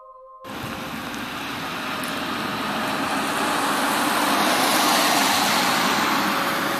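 A steady roar of a car speeding along a mountain road, broadband road and engine noise swelling gradually and holding loud throughout.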